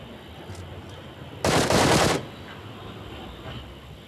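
A short, loud burst of rapid automatic gunfire from the mobile battle-royale game BGMI rings out for under a second amid quiet game ambience.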